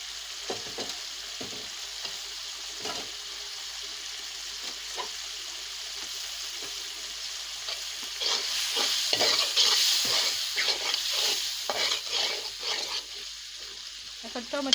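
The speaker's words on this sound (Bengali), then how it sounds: "সব মশলা দিয়ে দিছি, দিয়ে ভালো করে কষিয়ে নিচ্ছি।" Turmeric, chili and cumin being sautéed and stirred in a pan give a continuous close sizzle with scraping stir strokes, growing louder and busier partway through.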